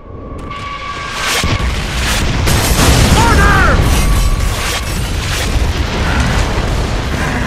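A mortar shell detonating in Gears of War Aftermath: a few sharp cracks, then a heavy, loud boom that swells and rolls on as a sustained rumble.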